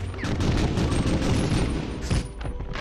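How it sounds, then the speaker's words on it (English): Enemy gunfire in the PS1 shooter Medal of Honor Underground: dense, continuous bursts of shots and booming hits that fill the scene close and loud, with no talk over them. "he was sort of shooting back at his buddy"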